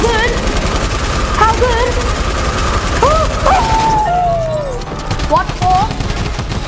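Suppressed assault rifle fire in the Fortnite video game comes as rapid, muffled bursts layered under busy game effects and tonal chirps, while a player talks over the action.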